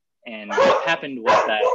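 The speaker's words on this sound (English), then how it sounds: "now that my wife is inside, they will stop barking." Household dogs bark in short bursts close by, mixed in with someone talking over them throughout.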